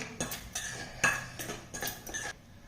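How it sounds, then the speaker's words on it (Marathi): A spoon clinks and scrapes against a bowl while potato chakli dough ingredients with salt and a pinch of asafoetida are stirred together, in quiet irregular taps and scrapes with short pauses between them. "आता हे सर्व घटक यामध्ये मिक्स करून घ्यायचे आहेत."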